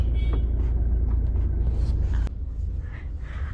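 A family car pulling up outdoors gives a steady, close, low engine rumble that drops in level partway through and continues more quietly.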